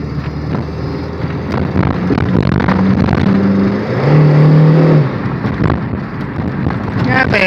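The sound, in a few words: old 110 horsepower car engine accelerating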